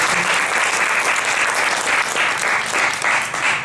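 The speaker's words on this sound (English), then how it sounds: "let's give our panel a round of applause for that" A conference audience applauds a discussion panel, steady dense clapping that holds at a constant level for several seconds with no speech over it.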